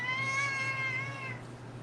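A big domestic cat lets out one long, drawn-out meow close by, its tonal cry sustained before trailing off into quiet room noise, with no talking.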